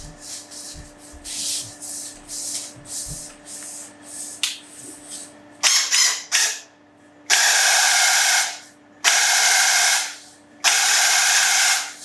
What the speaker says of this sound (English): I've turned off the trigger, so I'm ready to spray.